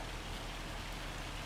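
Steady rain falling in a farming simulation game, a dense, even hiss with no voices, constant and moderately loud throughout.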